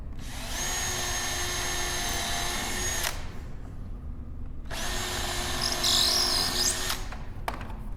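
A power drill drives screws into a chair in two long whining bursts of about three seconds each, with a short burst at the end and a steady motor hum underneath.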